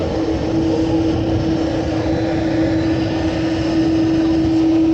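An Aer Lingus airliner at Manchester Airport, heard as a steady, loud jet roar with a sustained engine whine running unbroken throughout, no voices present.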